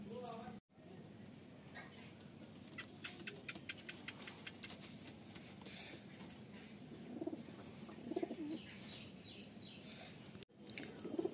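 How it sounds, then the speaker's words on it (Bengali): Madrasi pigeons cooing in a loft kept for sale, soft low coos repeating under steady background noise and ticking sounds, with someone talking over them. "এই যে আমার পায়রাটা দেখুন"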